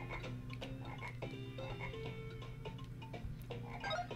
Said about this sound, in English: All frogs.